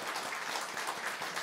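Congregation applauding to welcome newcomers during a church worship service, a steady wash of clapping across the whole moment at moderate level with no voices over it.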